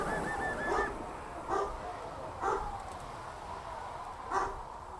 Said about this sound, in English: Hey, you're barking right into the microphone now.